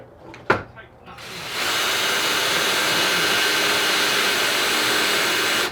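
After a brief knock, a power drill whirs up and runs steadily, a loud continuous buzzing whine that holds to the end.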